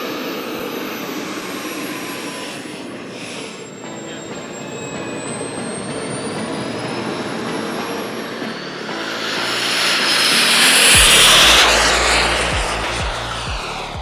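A twin-turbine RC jet taking off with half flaps, its steady turbine whine rising and swelling loudly toward the end as it passes close, with broadband jet roar throughout.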